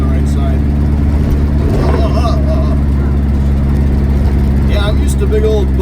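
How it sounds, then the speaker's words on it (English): A Volkswagen Beetle rolls down a street, its engine droning steadily and loud throughout, with a couple of short voices breaking in over the motor. "I haven't driven a Bug on the street in a while."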